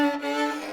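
Short scratchy violin phrase from Twinkle Twinkle Little Star played by a beginner with sloppy string crossing, one sustained bowed note with a rough, uneven tone, close and alone.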